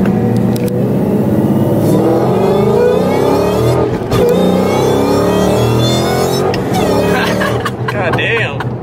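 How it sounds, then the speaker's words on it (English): A 2016 Mustang GT fitted with a Whipple supercharger accelerates hard up a freeway onramp, its loud engine roar climbing through the gears with rising supercharger whine, close and dominant, briefly dipping at a shift. "Get up on this freeway here. Get out of second gear."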